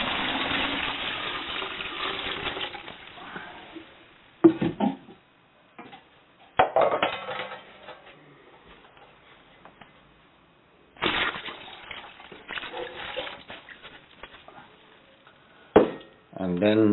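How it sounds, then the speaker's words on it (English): Boiled, cooled water poured from a container over squeezed grapes for homemade wine, coming in several gushing, splashing bursts separated by quiet gaps, close and fairly loud. "now I'll pour this boiled and cold water"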